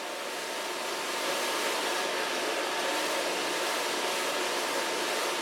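A hair dryer blows steadily as a round brush dries the rest of the hair for a mullet cut, a close, loud and continuous whoosh with no talking.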